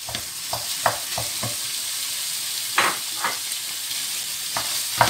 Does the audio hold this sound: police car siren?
no